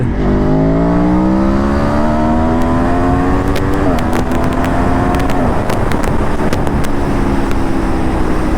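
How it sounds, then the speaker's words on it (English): An Aprilia Tuono V4 motorcycle growls steadily on an open road, its engine note climbing through the gears with a brief shift drop, loud and close with constant wind rush throughout. "this kind of a powerful growling motorcycle. Open road."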